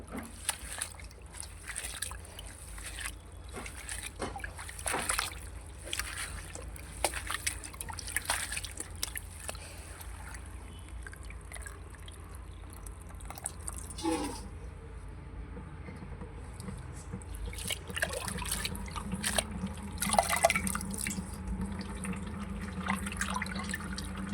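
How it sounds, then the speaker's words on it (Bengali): Fresh-picked grass pea leaves being washed by hand in water at home, with steady trickling and splashing plus intermittent sloshing and drips, close and quiet, with no talk. "শাকটা ভালোভাবে ধুয়ে নিলাম"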